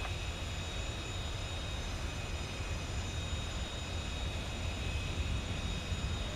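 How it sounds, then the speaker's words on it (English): A Boeing 727 taxiing to the runway in the FSX flight simulator produces a steady, droning jet engine rumble with thin tonal whines layered on top, constant and unbroken, with no speech. "that's us taxiing to the runway"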